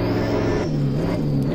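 A race car engine in Assetto Corsa Competizione rises steadily in pitch as the car pulls away, a continuous droning whine with a faint high whir above it and no talking.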